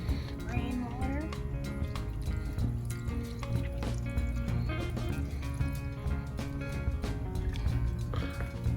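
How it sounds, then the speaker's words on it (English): Red peppers are rinsed with rainwater outdoors, a continuous splashing and dripping of water over the produce, close and fairly loud, with voices and background noise mixed in. "You want to rinse it off with some rainwater."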